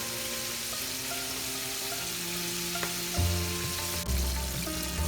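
Shrimp deep frying in hot oil for a dynamite shrimp appetizer: a steady close sizzle with a soft crackling hiss, then heavier low bubbling bursts in the second half. No voices.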